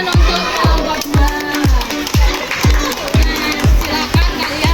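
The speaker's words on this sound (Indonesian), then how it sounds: "Tepuk tangan untuk kelompok 2." A group of students claps together in a physical education lesson on short-distance running, a loud, rhythmic, evenly spaced beat of about ten claps, close by with no talk.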